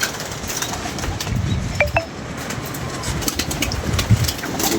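Pet pigeons in a rooftop loft, with soft low cooing and brief wing flaps against steady outdoor background noise; no one talks.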